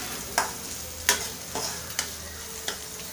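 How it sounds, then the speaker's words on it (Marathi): Turmeric stirred into a sizzling spice tempering with curry leaves in a pan for a yellow potato dish, with a few distinct spoon scrapes and clinks spaced over a soft, steady frying hiss, heard close with no talking. "मिक्स करून घेऊया।"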